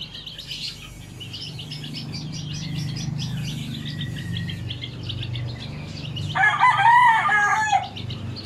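Chickens cluck and chirp steadily in a yard, with a low rumble underneath, and then a nearby rooster lets out one loud crow toward the end.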